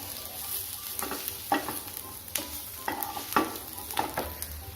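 Chopped onions with red chili powder frying in a pan, giving a soft, steady sizzle broken by a few scraping stirs of a utensil.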